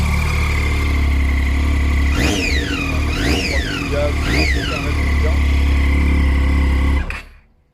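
A used motorcycle engine idles steadily up close, then is revved three times in quick blips, each rising and falling, before cutting off at the end.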